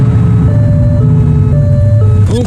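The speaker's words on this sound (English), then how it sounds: "Get on their tail and flip the siren." In the police video game The Precinct, a patrol car's siren sounds over a loud engine drone, alternating two-tone wails in a steady rhythm, with a rising whoop near the end.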